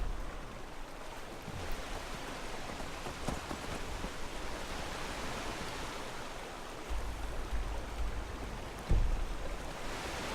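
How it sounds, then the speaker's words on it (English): A waterfall in Skyrim gives a steady, dense rush of falling water that fills the scene evenly, with a few soft thumps and no talking. "It's not behind the waterfall"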